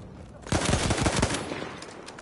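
Rapid bursts of gunfire from a first-person shooter video game rattle off close and loud for about a second, then trail into fainter background game noise.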